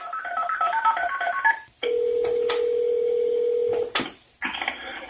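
A telephone call to a 911 dispatcher starts with a quick run of dialing beeps, then a long steady tone, a pause, and another tone on the line, with no voices.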